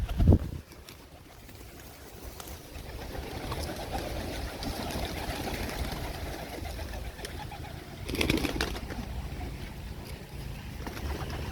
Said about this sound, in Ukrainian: Ой, ви подивіться, скільки голубів.